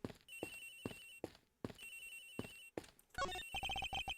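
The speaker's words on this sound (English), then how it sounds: "Sounds like the phone is up in the flight attendant's room." Cell phone ringtone playing in a murder-mystery video game, a bright electronic lullaby-like melody in repeated short bursts with brief gaps, ending in a quick run of rapid chiming notes.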